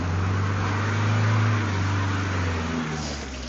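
A car approaches from behind on an icy road, its engine a steady, moderately loud low hum that swells slightly in the middle and eases off toward the end, with no talking.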